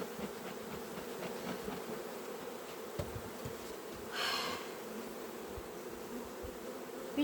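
Steady, close buzzing of many honeybees at a hive being readied for cold weather fills the whole clip, with a brief louder hiss partway through.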